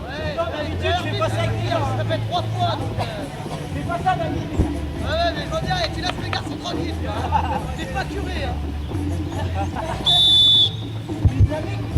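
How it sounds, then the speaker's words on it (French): A referee's whistle gives one short blast near the end, under steady crowd chatter and commentary at a women's rugby match. "C'est sifflé, donc ils peuvent jouer."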